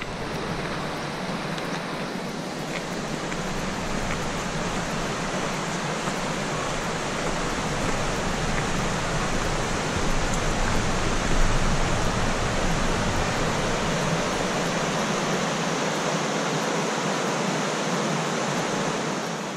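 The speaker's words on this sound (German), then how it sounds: "Hier hat der Bach ziemlich viel weggefressen." A mountain stream rushes steadily along in the Gantrisch nature park near Schwarzsee and Plaffeien, a dense, loud, unbroken wash of water noise that holds constant throughout with no voices.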